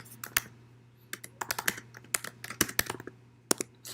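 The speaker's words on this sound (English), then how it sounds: "I'll actually type it in here" A computer keyboard is typed on in a quick, close burst of crisp clacking keystrokes with brief uneven pauses, while a soft steady hum sits underneath and nobody speaks.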